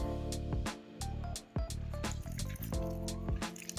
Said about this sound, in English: I'm gonna put a splash of olive oil